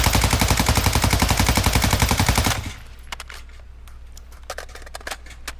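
Rapid automatic gunfire in a video game without recoil control, a loud, fast burst of evenly spaced shots lasting about two and a half seconds, then quieter scattered clicks and game noise.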